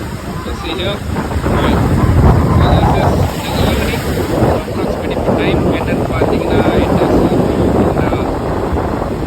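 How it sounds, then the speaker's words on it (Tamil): Sea breeze blowing in off the water at Marina Beach, a loud, steady wind rumble buffeting the microphone with surf noise underneath, while someone talks over it throughout. "நல்ல ஒரு காற்று கடலில் இருந்து லேண்ட் நோக்கி அடிக்கிறது சீ பிரீஸ்"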